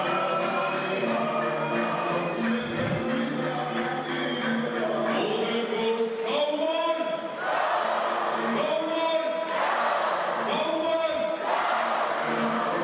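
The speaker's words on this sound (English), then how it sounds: "Georgie's got the crowd going, hasn't he? He knows how to wake up the crowd." Crowd noise rising and falling through a women's final at the European Club Championships, a sustained bed of cheering and shouting with brief louder surges, a commentator talking over it.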